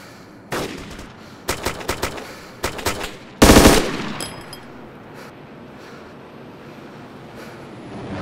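Gunfire in the infantry-combat video game ArmA 2: several sharp shots in quick groups, then one heavier blast. A faint ringing and a quiet, windy background follow.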